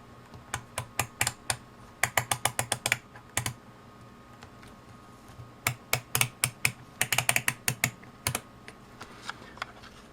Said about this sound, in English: Let me just rotate the dial on both meters to give you an idea what the two sound like.